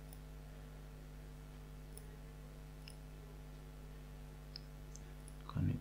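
A computer mouse gives sparse, faint, sharp clicks over a steady electrical hum, with a slightly louder rustle at the end and no talk.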